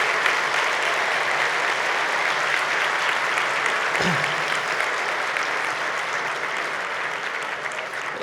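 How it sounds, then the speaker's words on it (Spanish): Sustained audience applause fills a conference hall at the ENADE 2019 event, a dense, steady wash of clapping from a large crowd that holds loud throughout, with a brief low thump near the middle. "Ese aplauso es para ella y para lo que representa"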